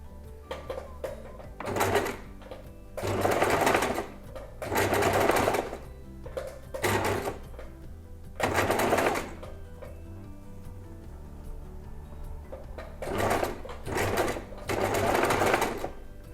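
Sewing machine stitching slowly around round fabric makeup remover wipes, running in short bursts of rapid mechanical whirring separated by quiet pauses and faint clicks.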